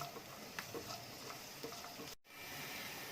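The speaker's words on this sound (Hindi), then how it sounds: "अब इन्हें हम भून लेंगे, कड़छी लगातार चलाएंगे और खुशबू आने तक इन्हें भूनेंगे" Garlic and ginger frying in a pan while a ladle stirs them, giving a steady soft sizzle with occasional scraping taps. A brief dropout interrupts it near the end.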